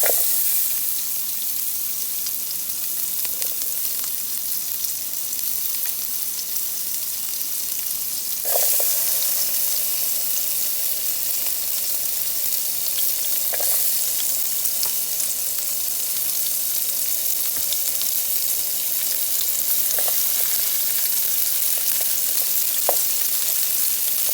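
Onions and peppers sizzle in melting butter for fried cabbage, a steady close frying hiss throughout with a few brief stirring clinks and scrapes.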